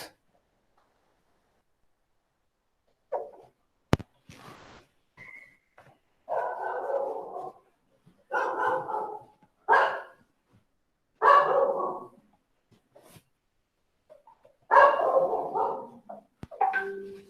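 Dogs bark in loud, close bursts, several separate barks and short runs spread across a quiet stretch, with no talking.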